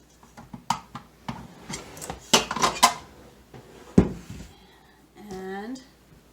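Sweet tart dough being scraped out of a bowl onto a floured counter, with a run of scraping and knocking against the bowl, a sharp clack near the end and talking over it.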